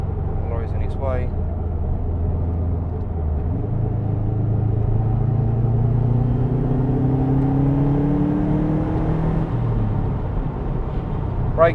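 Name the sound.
Subaru Impreza WRX STI Type-RA driving on road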